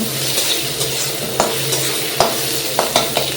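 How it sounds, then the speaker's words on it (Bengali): Red chillies frying with onions in a pan, a loud continuous close sizzle broken by several sharp stirring scrapes and clicks, no voices. "কয়েকটা লাল লাল লঙ্কা দিয়ে দিলাম পেঁয়াজটার সাথে ভাজা করবো একবারে"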